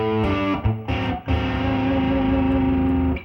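Distorted electric guitar intro riff moving through a 5 to 7 to 4 to 5 chord pattern, loud and close with effects, chords ringing out after a few quick changes, no talking.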